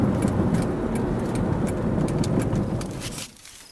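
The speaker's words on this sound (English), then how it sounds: "It's vibrating that bad when I hit the brakes." Car braking while coming off a highway ramp, with steering vibration from worn brake rotors: steady loud road and engine rumble with a coarse shuddering texture, fading away at the end.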